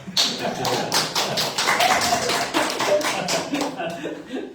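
A church congregation applauds steadily for several seconds, a dense, even wash of many hands clapping close by, then tapering off toward the end.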